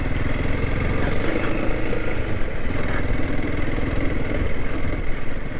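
A motorcycle ridden along a narrow single-track forest trail through a green tunnel of trees, its engine a steady, loud, close drone that holds without pause.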